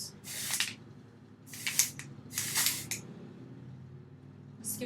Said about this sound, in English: Start with the volume powder, you shake it up, spray it at your roots.